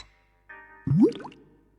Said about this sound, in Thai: ก๊อกน้ำเปิดน้ำใช่ปะ